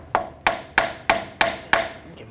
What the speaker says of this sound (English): I'm just going to take a hammer